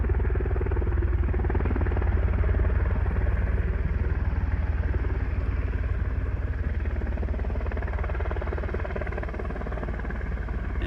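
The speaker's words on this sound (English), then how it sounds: "It takes a big helicopter to fly in this kind of wind." A large Coast Guard helicopter flying in strong wind, a loud continuous engine and rotor roar with a rumbling low end, steady throughout and fading slightly toward the end.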